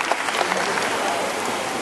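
Audience applause at a parrot show in a bird park in Singapore, a steady dense patter of clapping filling the short moment, with a hint of crowd voices mixed in.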